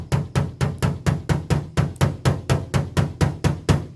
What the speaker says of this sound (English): find your hammer and kind of tap around on it